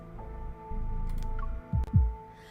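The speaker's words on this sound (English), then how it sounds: "Suddenly, I hear a strong heartbeat and feel a warm power flow through me." A strong heartbeat from the game Love and Deepspace: two deep, heavy thumps land close together near the end over a low steady hum, with no talking.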